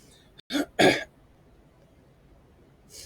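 Two quick, close coughs or throat-clearing bursts, one after the other, then quiet room tone and a faint breath at the end.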